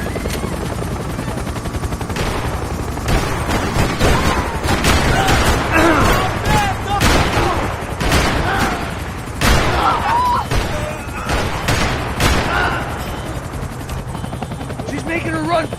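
Rifle gunfire in the Max Payne 3 video game, repeated sharp bursts and volleys over a loud, steady helicopter rotor drone, with voices shouting in between.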